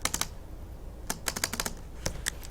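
Nearby clicking on a computer keyboard comes in quick clusters of keystrokes separated by short pauses, crisp and moderately loud with no talking.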